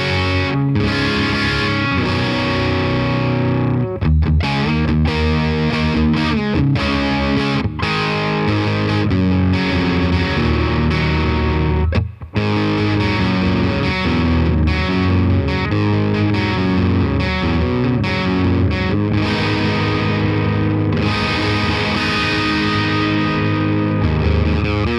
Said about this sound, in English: that's my Randall RG80 Deluxe, a very rare species of the Randall RG series